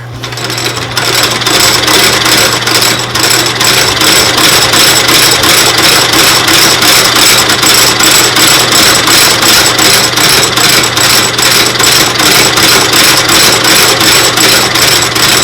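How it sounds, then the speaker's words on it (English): An outsole stitcher machine stitches the sole of an Allen Edmonds shoe with a loud, fast, evenly spaced clacking that repeats steadily over a constant motor hum, heard alone and close up. "now what we're going to do is take this outsole stitcher here and stitch the shoe up"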